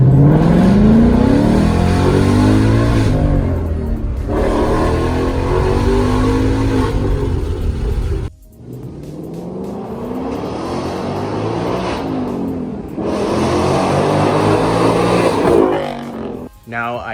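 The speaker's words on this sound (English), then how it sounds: "I'm gonna show you guys what a pull sounds like with the exhaust, the active exhaust" A Ford Mustang with active exhaust set to track mode revs hard through two long full-throttle pulls, the note climbing steadily, dropping sharply between them, then swelling loudly again before it cuts off.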